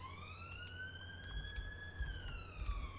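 An emergency siren from the city-building game Cities: Skylines wails steadily, its tone rising slowly and then dipping near the end, loud and clear over a low rumbling background for about three seconds.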